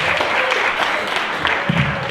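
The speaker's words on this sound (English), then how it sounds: "can we get another round of applause for that recital?" Audience applause after a recital at a university stand-up comedy show, a steady dense clapping that fills the whole moment with a faint murmur of voices mixed in.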